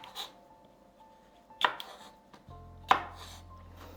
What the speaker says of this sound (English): You just chop it into maybe 1 centimeter in or 1 inch in